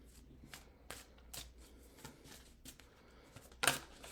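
Tarot or playing cards are shuffled by hand for a psychic reading, a run of soft riffling flicks with a sharper, louder snap of cards near the end, close and quiet with no talking.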